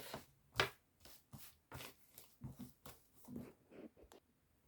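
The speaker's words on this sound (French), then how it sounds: "Allez, je range bien mes cartes" A deck of playing cards is shuffled and squared up, giving a string of crisp riffling bursts and soft taps, close and fairly quiet, with no talking.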